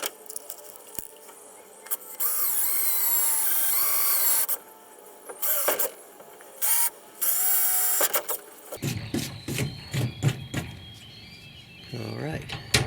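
A handheld power drill opens holes to 1/4 inch while mounting a cargo box on a kayak trailer. It whirs in several short bursts with pauses between them, followed by clattering handling noises and a voice speaking.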